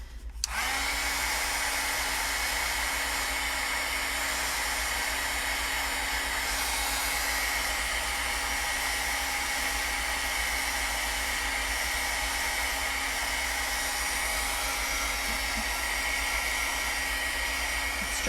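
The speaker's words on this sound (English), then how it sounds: "So let's get our dryer in here." A hair dryer switches on and blows steadily at close range as it dries a wet football, a loud continuous whirring hiss holding even throughout with no talk.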